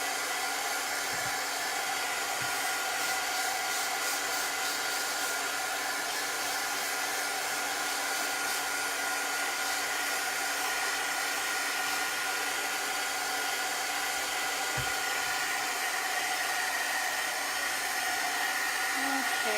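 A heat tool blows a steady, loud hiss of hot air while drying chalk paste on a craft transfer, running unbroken throughout.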